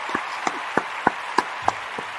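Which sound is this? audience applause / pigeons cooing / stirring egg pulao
audience applause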